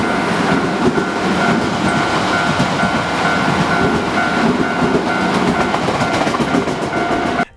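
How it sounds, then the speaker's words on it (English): A train passes very close by a Japanese property, a loud continuous roar of rolling wheels and rattling cars that holds steady and then cuts off abruptly at the end. "I taped it and videoed it while this train was going by"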